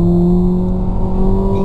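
Volkswagen Polo GTS engine growling from inside the cabin, with a steady low drone and strong harmonic hum, continuous and fairly loud, with panel vibration resonating under the dashboard.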